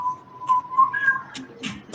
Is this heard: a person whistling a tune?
yes